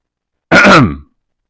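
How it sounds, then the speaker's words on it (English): One short, gruff throat clearing, close and loud, lasting about half a second before cutting to silence. "You look like you're about to clear your throat again?"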